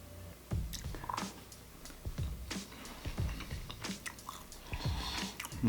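Close, moist chewing and biting on spicy beef nihari, soft squishy chomps repeating at an uneven pace with no talking.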